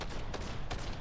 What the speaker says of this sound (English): I don't know, I'm just hearing gunfire.